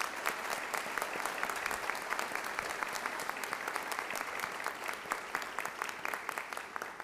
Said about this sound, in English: Let's give those folks a round of applause as well.